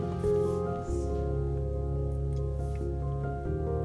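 Cooked meat mixture being stirred into rice for pilau, giving steady soft squishing and wet mixing sounds close up over a constant background hum.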